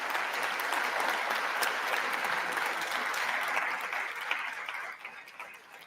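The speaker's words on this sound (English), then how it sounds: "That big clapping is Lindsey Graham." Loud, sustained applause from a packed chamber of Congress during a presidential address, dense clapping that holds steady for several seconds before thinning and fading toward the end.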